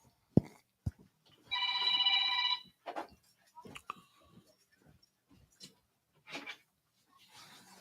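A telephone on a podcast call-in line gives one short electronic ring, scattered among quiet clicks and handling noises in a quiet room.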